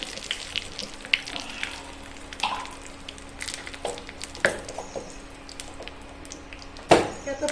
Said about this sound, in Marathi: ती फोडणी चांगली चरचरीत तयार करायची